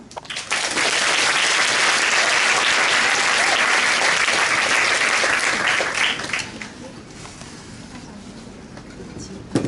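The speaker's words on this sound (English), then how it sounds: "Please give a big applause to our principal." A school audience gives loud, dense applause for the principal at a bilingual class showcase, a thick roar of clapping sustained for about six seconds before thinning out and fading.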